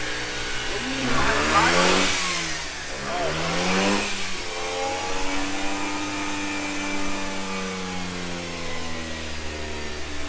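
A 2006 Mazda RX-8 rotary engine runs and revs, with sharp rising and falling sweeps of its buzzing note early on before settling into a steady, smooth idle hum.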